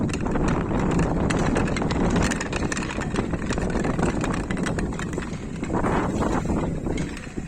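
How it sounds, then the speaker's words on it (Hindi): Gusty wind buffets the microphone while wooden planks knock and clatter irregularly at Zenkoji Temple in Nagano, Japan, a busy rattling texture throughout. "हवा की वजह से इन वुडन प्लैंक से बहुत म्यूजिकल साउंड आ रहा था।"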